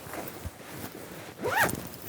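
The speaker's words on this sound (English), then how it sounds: "We have zippers here at the pockets." A single short pull of the zipper on a Milwaukee heated jacket pocket, a quick close rasp rising and falling over faint handling noise.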